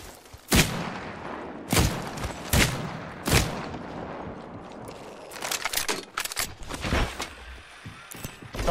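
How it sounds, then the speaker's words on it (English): Gunfire in Apex Legends, four loud separated shots at a steady spacing, then a denser rattling burst of quicker shots and mechanical clicks, close and sharp. "I am taking fire."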